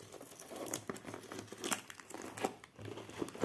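Packaging being peeled and torn off a parcel during an unboxing: quiet, close crinkling and ripping in irregular bursts with small crackles, no talk.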